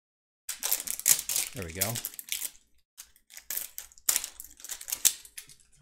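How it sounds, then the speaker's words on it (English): An X-Acto knife cutting plastic from a Mega Construx Black Series alien egg canister, heard as close crackling, scraping and crinkling bursts with short pauses, while a person speaks briefly. "So you just take a little bit more with my X-Acto knife here."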